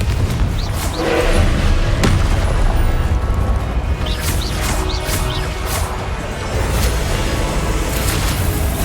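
Blasting-spell explosions in Hogwarts Legacy, a loud continuous barrage of booming crashes and smashing debris with sharp bursts layered over dense rumble, close and relentless throughout.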